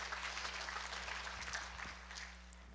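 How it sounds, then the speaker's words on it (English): A church congregation claps during a morning service, a faint, distant patter of applause over a steady electrical hum, fading toward the end. "God deserves a clap offering this morning."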